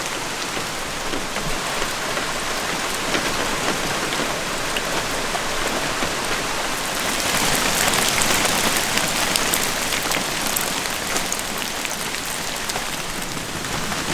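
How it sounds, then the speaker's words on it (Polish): Heavy rain pours down in the Japanese Alps during a thru-hike, a dense, continuous hiss of drops drumming close by on a nearby surface, swelling slightly midway, with no voices. "No i pada deszczyk."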